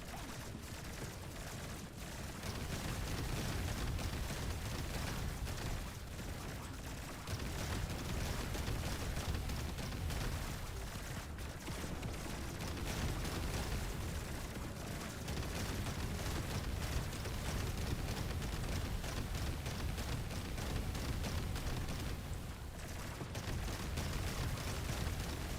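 Constant barrage of explosions and gunfire from Deep Rock Galactic: Survivor, a dense, roaring wall of blasts and booms that runs almost continuously at steady loudness, with only brief dips and no talking.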